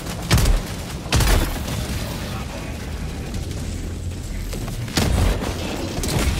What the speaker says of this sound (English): Here comes the hell bomb.